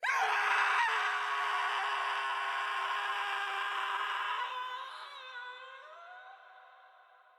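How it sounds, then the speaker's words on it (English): An anime voice actor lets out a long, loud scream that holds steady for several seconds, then tapers and fades toward the end, with no other talk over it. "the voice actor lets out this amazing scream"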